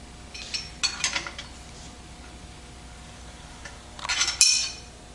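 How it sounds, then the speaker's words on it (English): A 5/8 wrench working a lock nut off the adjustment screw on the side cover of a 1953-1962 Corvette steering gearbox, giving a few short metallic clinks and ticks in bursts with quiet gaps between. "remove the lock nut on the adjustment screw here on the side cover"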